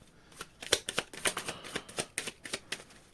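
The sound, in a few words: shuffling a deck of oracle cards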